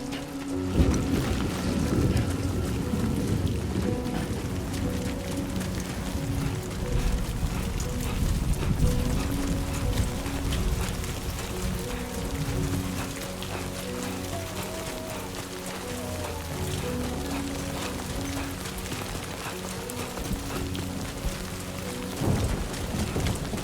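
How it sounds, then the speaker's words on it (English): Steady rain patters with low rumbling thunder in a stormy scene from the video game Death Stranding 2, with musical tones running underneath throughout. "Rain."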